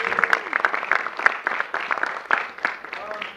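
Audience applause at an improv comedy showcase, uneven scattered clapping with sharp individual claps, mixed with voices and cheering from the crowd, moderately loud and fading slightly toward the end.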